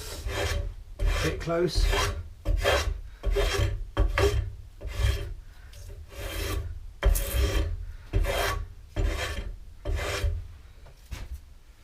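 Hand rasp filing wood while shaping a three-legged stool, a steady run of about a dozen rough back-and-forth rasping strokes, close and loud with brief gaps between each stroke.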